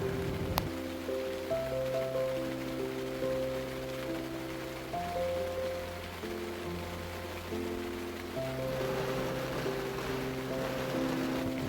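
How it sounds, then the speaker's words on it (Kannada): Heavy rain pours down steadily and close by without a break, a dense hiss blended with a sustained tonal hum in the background. "ಊಟ ಆಗಿದ ತಕ್ಷಣ ಮಳೆ ಜೋರಾಗಿ ಬೀಳಲಿಕ್ಕೆ ಸ್ಟಾರ್ಟ್ ಆಯಿತು."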